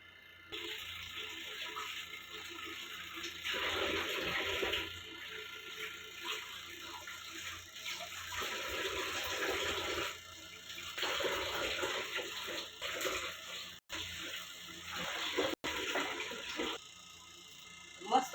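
Tap water runs and splashes in a sink while pomfret and mackerel fish are washed by hand, coming in uneven bursts with short pauses and quiet handling noises.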